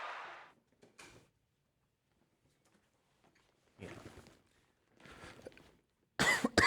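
A few separate short coughs and throat noises, close, with silent gaps between them, the last one louder.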